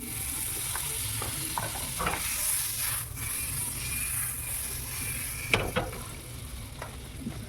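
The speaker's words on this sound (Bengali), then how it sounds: "তাওয়াটা গরম হয়ে গেছে, এবার কিছুটা বাটার দিয়ে দেবো।" Butter sizzling on a hot tawa griddle while making pav bhaji, a steady frying crackle with occasional stirring scrapes and a few louder clinks near the end, close and moderately loud.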